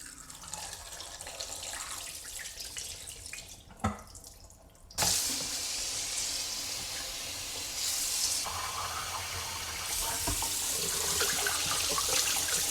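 Dirty water pours out of the tank of a Bissell Little Green portable carpet cleaner in a steady, splashing stream that starts after a brief handling clatter and continues to the end.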